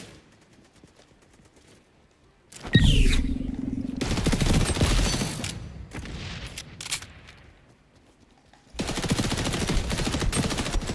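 MP5A2 submachine gun in the shooter XDefiant, fired in long loud automatic bursts, quiet at first, then sustained rattling fire with a brief lull before a final burst.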